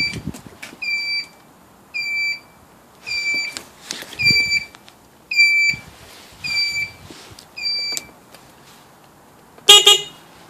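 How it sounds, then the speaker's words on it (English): The turn signal on an X-treme X-360 electric scooter beeps in a steady pattern, a clear, close electronic tone repeating about once a second, followed near the end by a brief, sharper chirp. "does beep to tell you the turn signal's on."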